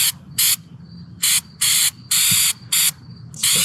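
Rubber sealant sprayed onto the roof of a Lance 825 truck camper: seven loud bursts of hissing spray, each about a quarter to half second long, with short pauses between them.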